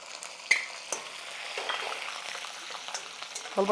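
Cumin, curry leaves, green chilli, ginger and garlic fry in hot oil for palak dal, giving a soft continuous sizzle with a few sharp spoon taps against the pan, close and fairly quiet.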